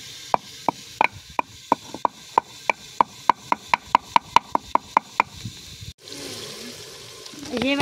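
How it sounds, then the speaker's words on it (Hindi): Dried coriander seeds pounded by hand in a village kitchen, a steady rhythm of about twenty sharp, evenly spaced thuds, close and clear, stopping before a brief burst of rustling and clatter. "यहाँ पे जो है ना मैं कूट रही हूँ सूखे धनिए।"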